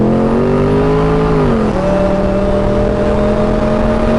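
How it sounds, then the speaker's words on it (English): A car accelerates hard alongside a Mustang, its engine note rising steadily, dropping briefly at a gear change and then climbing again, loud and close throughout. "This car will pull a Mustang."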